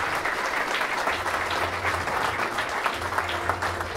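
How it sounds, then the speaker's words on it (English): Steady applause from an audience at a chamber of commerce awards event in a fire hall, honoring award winners; dense, continuous clapping fills the room at an even level without letting up. "Let's give them another round of applause to the award winners."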